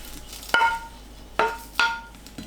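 Fish cakes stir-fried in a pan over high heat produce a few sharp metallic clinks and scrapes of utensil against pan, spaced irregularly over a faint sizzling background.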